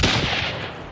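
Firecrackers thrown in the Hunt: Showdown video game go off in a loud, dense burst of sharp crackling pops. The rapid cracks blur into one another, then fade through the rest of the second.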